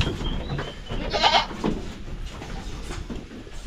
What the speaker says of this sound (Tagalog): Mga lalaking kambing.